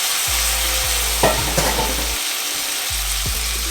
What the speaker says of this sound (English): I like to saute my chickpea with the spices before I add my coconut milk.